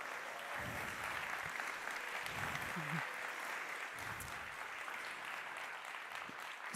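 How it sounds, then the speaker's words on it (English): A conference audience at BSides Orlando 2022 applauds in a faint, steady wash of clapping that continues for several seconds, with a few brief voices mixed in. "another round of applause for Laz, please"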